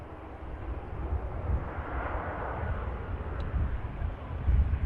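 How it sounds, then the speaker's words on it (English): An easyJet airliner lands at Manchester Airport with a broad, moderately loud engine rumble and roar, heard from a distance against wind-buffeted outdoor noise. "EasyJet touches down without issue"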